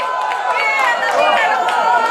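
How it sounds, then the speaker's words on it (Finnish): A crowd at a Finnish beauty pageant event shouts and cheers loudly and continuously, with many voices blending into a sustained roar of whoops and yells close to the microphone. "Huutoa kolmannella ja minä haluan kuulla."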